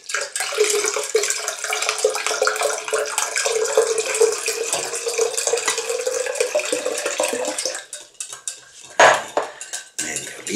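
Spoon stirring half a litre of water in a glass or jug while mixing a cherry rum drink, a steady clinking and swishing that runs for several seconds, then a few louder knocks, with no talk.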